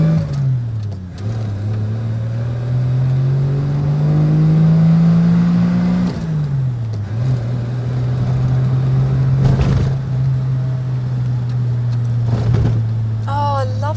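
A classic Rover P4 110 engine accelerating, a steady drone that climbs in pitch, drops at gear changes and climbs again, heard from inside the car with a voice speaking briefly.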